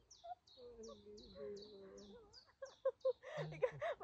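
Birds chirp at a canola farm in Denmark in a steady run of short, high, repeated calls, fairly close, while a low hum runs underneath and a voice briefly joins near the end.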